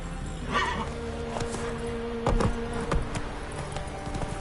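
A horse in a video game whinnies and its hooves clip-clop at a gallop, with a loud neigh near the start and steady hoofbeats under a constant game ambience, no talking.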